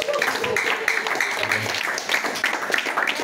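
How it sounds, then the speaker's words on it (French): Church congregation applauding and acclaiming during a worship service, a moderate mix of clapping and raised voices with a low rumble and shouts under it. "Mais acclame le Seigneur."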